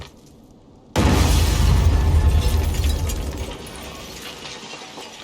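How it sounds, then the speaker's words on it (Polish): A car blows up in the video game Dying Light 2, a sudden loud boom after a quiet moment, followed by a crackling, rumbling tail that slowly fades. "Nie wiem dlaczego to auto wybuchło"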